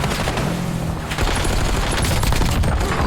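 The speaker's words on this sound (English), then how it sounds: "That's a rocket explosion happening over there." A rocket explodes in the distance in Call of Duty Warzone with a muffled boom. Rapid gunfire crackles around it in a dense, loud battle din, and no one speaks.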